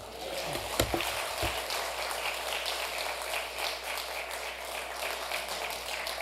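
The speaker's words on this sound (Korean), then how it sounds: "예배 시간에 이렇게 박수를 치니까 굉장히 부드러운 것 같습니다" A church congregation claps during worship. The clapping is dense, steady and fairly soft, heard from across the room, with a few sharper taps near the start.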